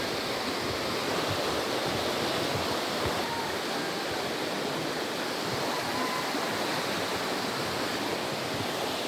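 A flooded river near a bridge rushes in a loud, steady, broadband roar of heavy flowing water that persists unbroken throughout, close by and with no talk.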